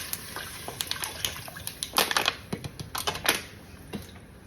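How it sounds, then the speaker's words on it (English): Bottled water is poured into a hot cooking pot of braising meat, giving a run of crackling, sputtering splashes and pops that stay fairly close and steady, with no talking. "I'm going to go ahead on and add my water."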